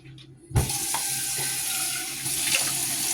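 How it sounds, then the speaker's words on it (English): Kitchen tap water running into a pot for spaghetti noodles, a sudden close gush that turns into a steady, loud splashing hiss with small clunks of the pot as it fills. "And we can go ahead and start getting the water."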